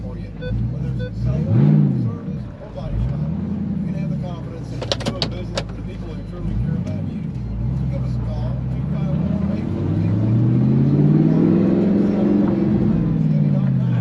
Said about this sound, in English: This car sounds so good. Of course, my car does have the Fab Speed exhaust on it.